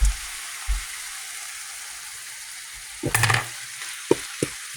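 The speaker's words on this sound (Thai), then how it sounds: "ใส่หมูลงไปแล้วครับรอให้หมูมันสุก" Pork sizzles in a frying pan with onions, a steady soft hiss broken by a few louder stirring scrapes and clanks, with no talking.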